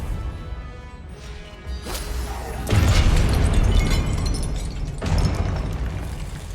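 Fiery Confringo spell blasts in the video game Hogwarts Legacy: a swoosh followed by rumbling, crashing explosions that swell and burst again, fairly loud with a dense low boom.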